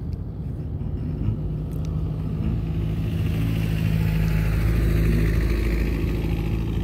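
Motorcycle engine racing alongside a camera drone at Bromo, a loud, continuous mid-pitched engine drone that steadily builds in intensity, with no voices.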